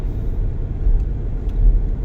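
Slow road traffic rumbles around a company driver's vehicle, with a low, steady engine and road drone at close range and a few soft swells, and no voices.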